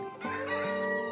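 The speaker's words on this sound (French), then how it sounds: "il entend le coq chanter." A rooster crows once, a short rising then sustained cock-a-doodle call, fairly clear and alone.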